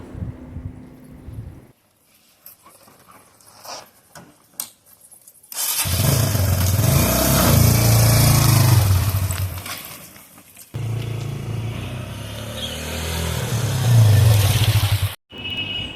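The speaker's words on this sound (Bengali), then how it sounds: "এবারে ডেবিট পুত্র বাইকটা নিয়ে আমি যাব" A 2000cc motorcycle is ridden. After several quiet seconds with faint knocks, a loud, throaty engine roar takes over, dips briefly, then surges again before cutting off near the end.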